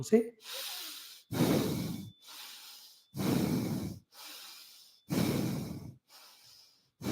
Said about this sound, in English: So whenever we inhale and exhale, a particular rhythmic sound happens.